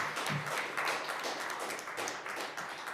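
Applause at a Harriet Tubman Day flag raising ceremony outdoors, a faint, steady patter of many hands clapping, continuous and somewhat distant.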